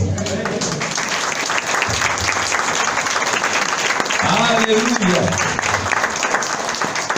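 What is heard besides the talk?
applause for the Lord in church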